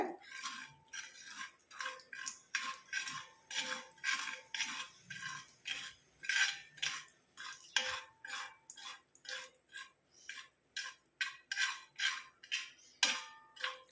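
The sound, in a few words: tea powder frying and being stirred in a pan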